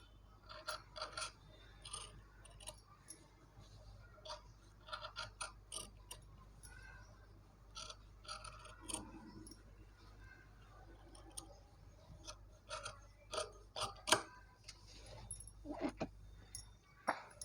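Scissors snip through blouse cloth along a curved neckline in irregular bursts of short, crisp cuts, quiet and close, with small clicks of the blades between cuts.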